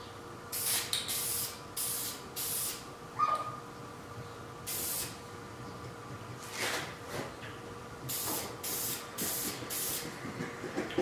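Spray gun paint applied to a CaseLabs PC case during a custom paint job, heard as a run of short, sharp hissing bursts, several in quick succession then a pause and another cluster, fairly close with a faint steady hum underneath.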